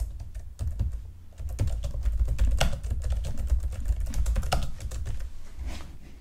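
Computer keyboard clacking as a tag name is typed, a rapid irregular stream of close key presses with short pauses, steady and fairly loud, no talk.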